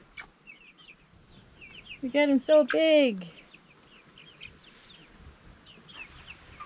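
A backyard flock with a rooster and young chicks clucks in a quick run of loud, close, nasal calls in the middle, while a person talks softly and faint bird chirps sound in the background.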